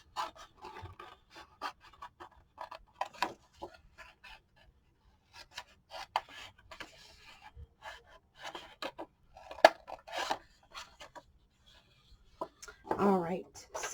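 Scissors snipping around paper pieces for a Wild Rose trifold 9x10 mini album: short, close, scattered cutting and rustling sounds in irregular bursts, with quiet pauses and a voice speaking softly between them.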